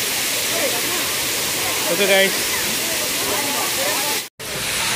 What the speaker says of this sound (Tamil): நம்ம தண்ணி சவுண்டு பார்க்கறதுக்கு நல்லாயிருக்கு